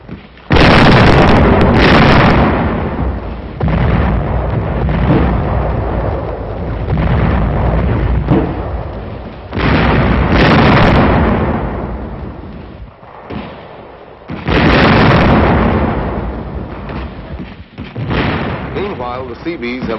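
Mortar and light field artillery firing in a wartime battle, heavy booms and rumbling blasts repeating in loud waves across the whole stretch, with a few sharper bursts between them.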